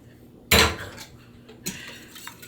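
Mixing a quarter cup of Frank's hot sauce into buffalo mac and cheese ingredients in an Instant Pot: a sharp clattering scrape of a utensil against the pot's metal insert, then a softer second knock and faint stirring, close and without talk.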